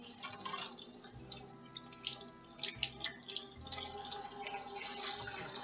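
Tap water runs steadily into a kitchen sink while broccolini is rinsed under it, with a continuous close splashing stream and scattered drips and clatters throughout.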